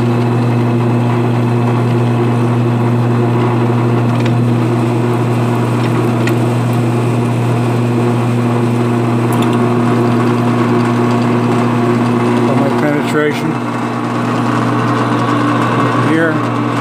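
A Grizzly G7943 heavy-duty 12-speed bench-mounted drill press runs with a loud, steady motor hum and drone that stays constant throughout.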